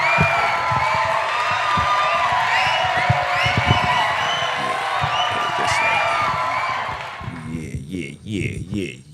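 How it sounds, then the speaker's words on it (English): Crowd cheering and whooping at a lively event, a sustained roar of voices with scattered applause that fades near the end as voices and music take over. "Round of applause for that."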